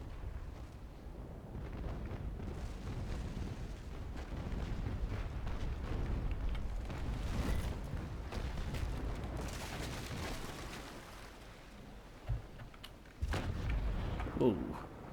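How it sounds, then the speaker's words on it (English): Ship cannons boom in the Naval Action age-of-sail video game, a dull rolling barrage of distant blasts and a few sharper shots, with speech present. "Well, at least we can hear the cannons going."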